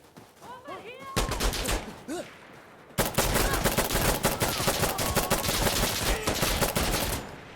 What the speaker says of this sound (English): We don't run away from gunfire, boys.